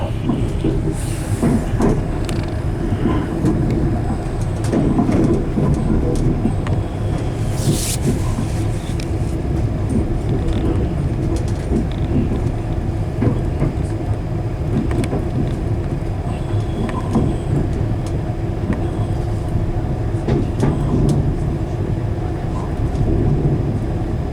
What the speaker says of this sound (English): This train is for London.